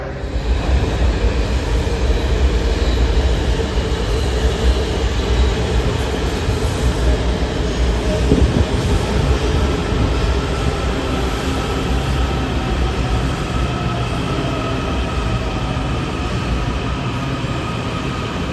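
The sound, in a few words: Washington Metro Silver Line train arriving at L'Enfant Plaza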